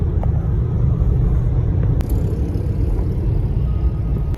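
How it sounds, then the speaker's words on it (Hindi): A bus engine rumbles steadily as the bus departs at night on a Karachi to Multan trip, a loud continuous low drone that fills the whole stretch with no talk. "गाड़ी अभी बस रवाना हो रही है"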